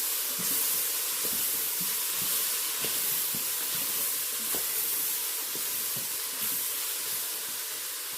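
Chopped onions and red peppers sizzle and hiss steadily in a Pampered Chef Quick Cooker, with soft scattered knocks and scrapes from stirring under the constant frying noise.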